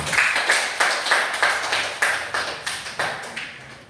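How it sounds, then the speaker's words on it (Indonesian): A classroom of students claps in unison for group 1, loud and close, about eight sharp rhythmic beats roughly every half second with no talk over them. "Terima kasih kepada kelompok 1, tepuk tangan."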